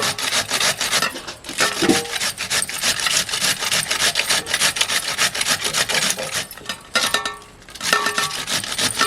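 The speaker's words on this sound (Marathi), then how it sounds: "कोबी मस्त किसून घेतलाय बघा एकदम बारीक बारीक" Cabbage is grated finely by hand for Manchurian in a village kitchen, making continuous rhythmic rasping scrapes with a few brief pauses and knocks, close and fairly loud, with no voices.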